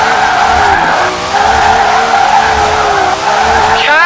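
Tyres of a drifting car in Forza Horizon 4 squealing loud and continuous with an engine drone, the shriek dipping briefly twice as the slide shifts, with no voices.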